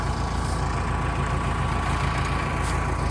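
A tractor engine idles in a wet field where three tractors work to pull out a stuck trailer, a loud, steady low rumble running unbroken throughout with no voices over it.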